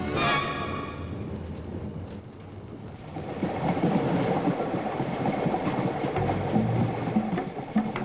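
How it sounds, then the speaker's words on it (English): A vintage passenger train leaving a station rolls along the rails with a loud, steady rumble and clatter, heard from close by, after a short metallic squeal at the start. "As the train leaves the station, passengers settle into the rhythmic movement of the vintage rail coaches"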